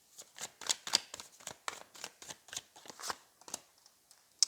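Tarot cards shuffle in quick bursts of riffling and flicking, a brisk, close, uneven rhythm of about a dozen papery strokes with no talking over them.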